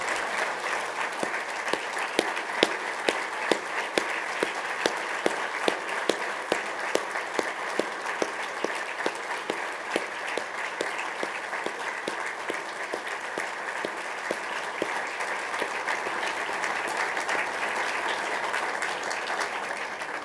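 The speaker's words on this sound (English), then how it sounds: "if we could give a standing applause for Erica, and then to Eric and Luis" Standing applause fills a Border Patrol recognition dinner, a steady wash of many hands clapping for the full stretch at moderate level, with no talk over it.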